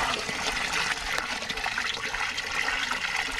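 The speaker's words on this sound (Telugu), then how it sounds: "డ్రమ్ము నుండా నీళ్ళు తీసుకున్నాం" Water is drawn from a 200-litre drum while preparing Amruthajalam, a farm preparation, giving a steady rushing and splashing flow that runs loud and unbroken throughout.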